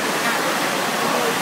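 Steady broadband rush of fast-flowing stream water swollen by rain, loud and continuous throughout, like floodwater pouring past nearby.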